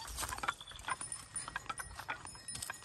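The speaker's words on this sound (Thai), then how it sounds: "วัวครับ" A cow walking through forest, its hooves thudding and clopping in a loose, uneven rhythm of steps close by over a rustling outdoor background.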